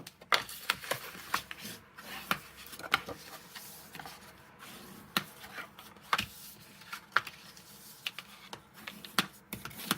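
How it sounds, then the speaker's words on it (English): Paper being folded along score lines and burnished flat while making a small gift box: soft scraping rubs and crisp little taps in an irregular rhythm, close and fairly quiet, with no talking. "Gonna fold and burnish all of my score lines."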